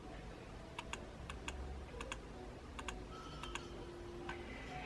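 In Electric Quilt 8 quilt design software, a computer mouse clicks in quick close pairs, soft and crisp, repeating several times over a faint steady background hum.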